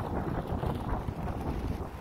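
Strong wind gusts buffet the microphone on an open hilltop drumlin, a dense low roaring rush that rises and falls without pause, with no other sounds or voices.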